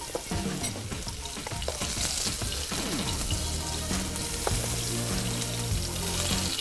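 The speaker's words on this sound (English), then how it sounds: "we're just getting these nice caramelized ends to our sausage here" Sausage sizzles and caramelizes in a pan with a steady, loud frying crackle, joined by scraping and stirring from a utensil and a brief run of tap water, and no one speaks.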